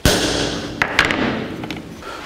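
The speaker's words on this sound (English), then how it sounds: "put a punch mark on our center line in the center of the hole" A few sharp metallic taps and thuds as a hammer strikes a center punch to mark a hole center for a gas pedal mount on a 1949 Chevrolet, close and distinct, ringing briefly over a steady background hum.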